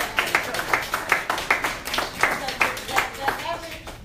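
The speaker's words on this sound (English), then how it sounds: "so let's give them a round of applause." Scattered clapping from an audience at a Detroit District 6 candidates forum: a dense run of sharp, rhythmic hand claps lasting a few seconds at moderate volume.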